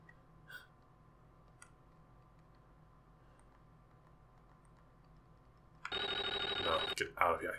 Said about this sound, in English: The phone line's been cut. But then why is it ringing?